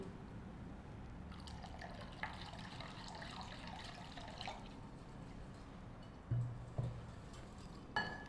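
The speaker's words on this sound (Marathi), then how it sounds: "गरम होईपर्यंत आपण यात पाणी घालून घेऊया" Water poured into a pan while making kadhi in a kitchen, a faint steady trickle and splash with a few soft knocks of utensils against the pan near the end.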